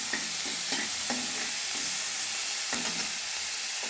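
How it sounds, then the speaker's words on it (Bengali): Onion paste frying in a pan for a Bengali koi fish curry, a steady sizzle broken by several distinct spatula stirring strokes, moderately quiet and close, with no voices. "পেঁয়াজ বাটা দিয়ে একটু ভেজে নেব যতক্ষণ না সোনালি রং ধরে আসছে"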